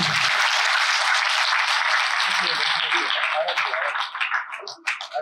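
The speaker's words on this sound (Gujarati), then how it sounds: "જોરદાર તાળીઓ થઈ જાય" Sustained applause from a crowd at a school Republic Day celebration, loud and dense at first before thinning into scattered claps toward the end.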